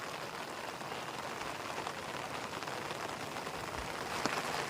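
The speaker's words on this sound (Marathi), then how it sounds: "पाऊस आलाय, असंच मध्ये मध्ये सारखा येत असतो" Steady rain pours down in a dense, even hiss, with scattered drops pattering on a surface close by. No voices.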